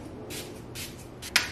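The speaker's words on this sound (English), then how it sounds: "I'm going to spray my face with this Tower 28 SOS Daily Rescue Facial Spray." Tower 28 SOS Daily Rescue facial spray mists onto a face in three quick, soft hissing bursts, close and quiet, the last a bit sharper.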